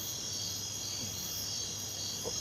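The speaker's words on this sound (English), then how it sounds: "I can repeat the crickets again" Crickets chirp in a steady, high, shimmering trill, continuous and moderately loud with no voices over it.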